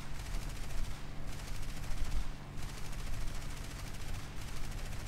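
Aircraft machine guns in War Thunder, on a ground-attack run in an Me 410, fire in long continuous rattling bursts. The sound is loud and dense and stays near, with only brief dips between volleys.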